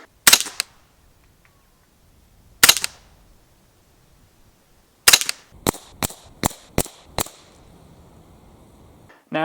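CZ Scorpion EVO 3 S1 rifle firing sharp, loud single shots, a couple spaced apart and then a quick string of about seven in steady rhythm, each cracking and decaying fast outdoors.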